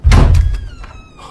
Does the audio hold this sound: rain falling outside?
no